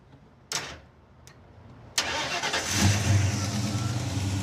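The old engine of the Raunchero, a car from Roadkill, cranks and catches on ignition after a few clunks and clicks, then settles into a loud, rough, rumbling idle close by.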